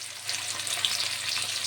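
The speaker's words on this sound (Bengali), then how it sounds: "কাঁচকলাটাকেও আমি একইভাবে ভেজে নেব।" Raw banana pieces frying in a pan, a continuous close crackling sizzle with a few sharper pops, and no one talking.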